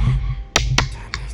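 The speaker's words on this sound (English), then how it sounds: "That's the sound of a Red Bull opening." A Red Bull can being cracked open, heard as two sharp, close snaps in quick succession, then a fainter third click.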